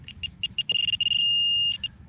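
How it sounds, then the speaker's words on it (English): Metal detector over a buried coin gives a run of short, high electronic beeps, then one long sustained tone and two more quick beeps, all close and clear above low rustling ground noise. "It's still beeping."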